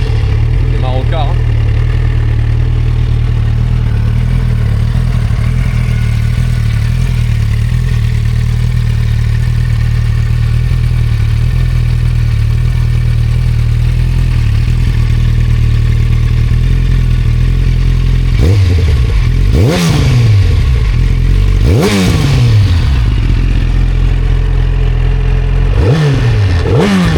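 A 2007 Yamaha FZ1 motorcycle engine, loud and close, idling steadily for most of the time, then revved in three sharp bursts with crackling pops as it comes off the throttle.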